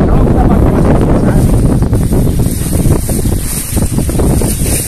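Loud wind gusts buffet the microphone in a chili field during the rainy season, a heavy roaring rumble that swells and eases over a few seconds.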